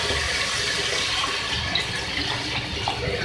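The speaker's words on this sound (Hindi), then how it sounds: "अब मैं इसमें ऐड करूँगी पानी 3 गिलास" Water from three glasses pours steadily into a pot of beef turai gosht, a continuous close splashing rush throughout with no talk.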